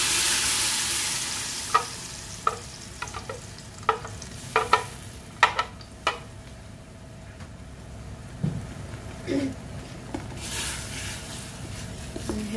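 Tomato sauce sizzles steadily in a frying pan while a spoon stirs it, giving a run of sharp scraping clicks and knocks over the constant frying hiss, with no one talking.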